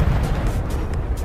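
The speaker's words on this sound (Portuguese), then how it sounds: "Essa explosão agora." A deep, rumbling explosion effect plays through an LG soundbar, loud and dense for about a second with a broad low-end roar and no talk over it.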